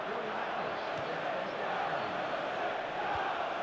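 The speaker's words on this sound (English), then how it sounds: "the crowd make it difficult for you. They're tight to the pitch, they really make a racket" Dense stadium crowd roar at a football match in EA Sports FC, a steady loud wash of chanting and noise from fans packed tight to the pitch, with no clear individual voices.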